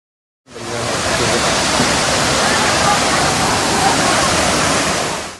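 Floodwater rushes over farmland after heavy rain in Karaali, Antakya, Hatay, a loud, dense and continuous roar that starts abruptly and holds steady with no pauses.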